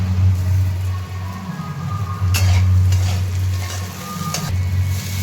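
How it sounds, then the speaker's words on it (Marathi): Coriander and sugar sautéing in hot oil for poha, a steady close sizzle with occasional stirring scrapes and clinks, no talking over it. "कोथंबीर पण तेलामध्ये परतून घेते"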